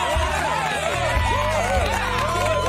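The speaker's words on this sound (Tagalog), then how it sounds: "Para po sa inyo talaga ang palakpak na yan kasi deserve nyo yan" A crowd applauds and cheers for overseas Filipino workers at a live event, with dense clapping, whoops and crowd noise over a steady low background hum.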